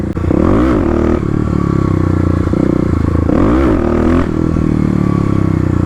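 A Kawasaki KLX351 dirt bike engine revs hard and steadily during clutch-up wheelie practice, with two sharp rising-and-falling throttle surges and some rattling clatter, close and loud.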